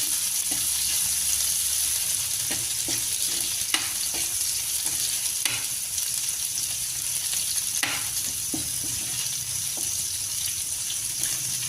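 Large pieces of garlic fry in a pan with a constant sizzle, while a utensil scrapes and stirs at irregular intervals.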